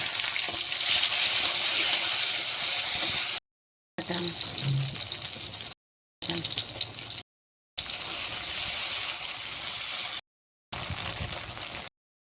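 Panch phoron, bay leaf and tomato frying in hot oil for a paneer vegetable dish, a loud steady sizzle heard in several short segments separated by cuts to silence, with occasional stirring.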